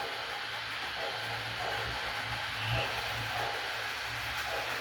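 A model passenger train runs around its track with a faint, steady rolling hum and soft clatter that continues without a break.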